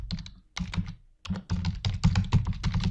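Fingers typing a first name into a data-entry form on a computer keyboard, giving quick bursts of clattering keystrokes. A short pause breaks them up before the typing picks up again, steady and close.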